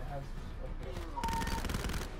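A burst-fire SMG in Call of Duty Black Ops 4 rattles off a rapid, sustained string of gunshots, fairly faint, following a brief stretch of quieter in-game sound.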